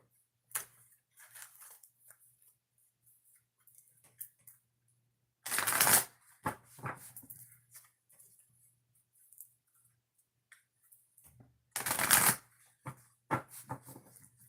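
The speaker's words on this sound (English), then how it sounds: "2 shuffles before we do" Two bursts of shuffling a deck of oracle cards, each a quick riffling flurry, separated by quiet moments with small taps and handling clicks.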